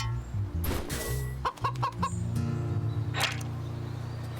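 A pheasant in a video game clucks like a chicken, a burst of quick, sharp clucks and squawks over a steady background music drone, then a second shorter squawk, with no talking.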